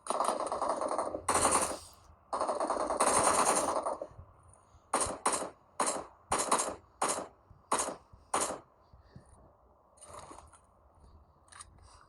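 AK rifle fire in a video game: two long automatic bursts, then a string of short quick bursts, followed by fainter clicks and mechanical sounds, loud and close, with no talk.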